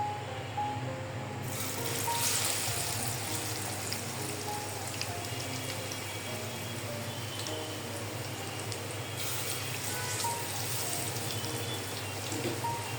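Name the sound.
bread pakora sandwiches frying in oil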